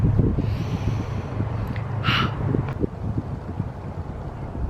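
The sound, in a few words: wind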